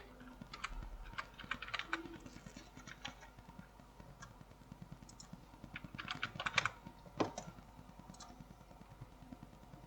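A password is entered on a computer keyboard while a Linux system is being installed in a virtual machine: quiet, rapid clusters of key clicks in uneven bursts, close and fairly soft, with no voices.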